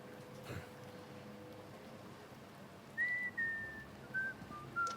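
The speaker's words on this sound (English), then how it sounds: "She loves a whistle, doesn't she?" Annika, a character in the Indiana Jones and the Great Circle video game, whistles a short tune of a few clear, sustained notes in the second half, rising out of a quiet, dim ambient backdrop.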